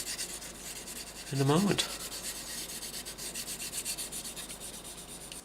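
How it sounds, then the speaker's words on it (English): Fine sandpaper rubbing over a plastic Eduard Bf 109G-2 scale aircraft model, a steady rhythmic scratching that runs throughout at close range, broken briefly by a short voiced sound near the start. "that is our model all now sanded down a touch to make it nice and smooth again"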